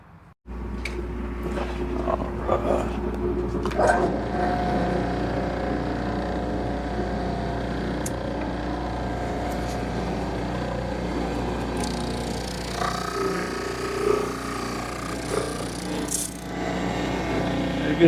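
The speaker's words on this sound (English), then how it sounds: "let me get started on the drum sander." Drum sander running while sanding wood strips for a segmented wood and resin piece, a steady loud motor rumble with scraping texture and occasional knocks throughout.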